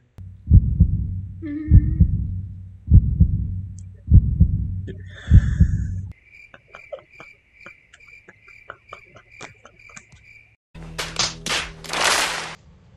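A steady thumping heartbeat effect repeats in paired beats, then gives way to a rhythmic chirping pulse and a burst of laughter near the end.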